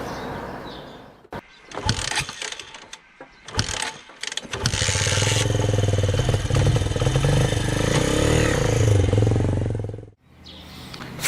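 A new Daytona Explorer Shineray X-Trail motorcycle with zero kilometres on it, its engine revving up and holding a loud, steady drone close by for several seconds before dropping off.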